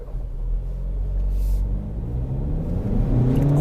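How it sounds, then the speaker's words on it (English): A SEAT Ateca 2.0 TDI XCELLENCE diesel pulls away hard from traffic lights in sport mode, a low steady engine rumble and drone building in pitch as it accelerates, heard from inside the cabin without talk. "Put it in sport mode and see what it's like off the line."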